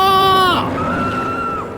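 A loud, high-pitched human scream, part of a horror story set near a temple and a sealed well, holds a piercing tone before breaking off and trailing into a thinner wavering cry.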